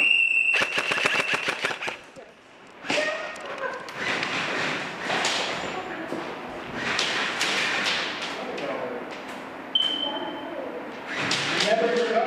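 Video game gunfire, a fast burst of close sharp shots followed by scattered thuds and impacts, with voices talking throughout.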